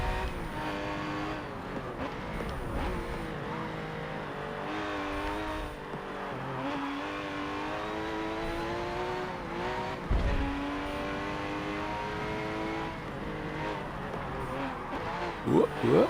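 An old, beefed-up car in Forza Motorsport 7 revs hard through repeated rising gear pulls, with tire squeal and shifts, its engine tone climbing and dropping continuously while a voice talks over it.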